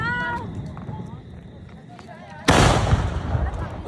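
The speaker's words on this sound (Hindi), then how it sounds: "अभी हम लोग फटाके फोड़ने वाले हैं" A firecracker bursts at a midnight birthday celebration, a sudden loud blast partway through followed by a crackling, noisy tail, with people talking beforehand.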